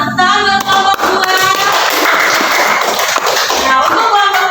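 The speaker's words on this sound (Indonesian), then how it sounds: "Tepuk tangan buat kelompok 2." Classroom students applaud a class group, a dense burst of clapping mixed with children's voices and cheering, loud and close throughout.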